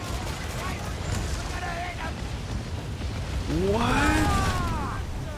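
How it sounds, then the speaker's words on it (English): Mortar fire from enemy ships in the Assassin's Creed Black Flag video game booms in heavy, rumbling blasts with rising whistling tones, a louder burst near the end, while someone speaks briefly. "Oh my god, their mortar is so strong, bro."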